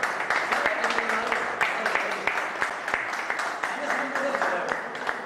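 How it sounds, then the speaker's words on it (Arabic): A crowd claps continuously, dense crackling applause that holds steady throughout, with voices mixed in underneath. "تصفيق على السلطان"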